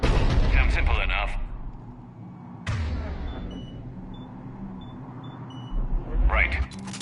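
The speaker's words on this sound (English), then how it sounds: "Looks like Cerberus got that cannon operational, Commander." Cerberus artillery cannons fire in Mass Effect 3, with a heavy boom at the start and a second sharp blast a few seconds later. Rumbling battle noise and game voices fill the gaps between them.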